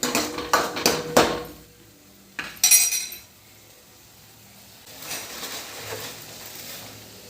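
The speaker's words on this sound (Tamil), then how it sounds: "இந்த மாதிரி கிண்டிக்கோங்க நல்லா." Ground tomato being stirred into an egg gravy in a pan, with a quick run of metallic spoon scrapes and clinks early on, a short burst of clatter, then a quieter stretch of soft sizzling and stirring.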